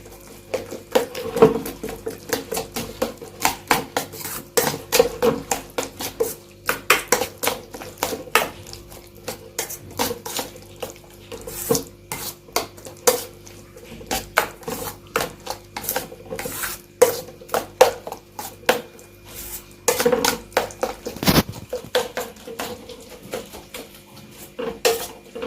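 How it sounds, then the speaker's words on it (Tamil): Onion, chilli and egg being stirred into a soaked lentil batter in a metal bowl, with a spoon scraping and clinking in rapid irregular strokes for a long stretch, close and clear. "நல்லா கலக்கி விட்டுக்கோங்க"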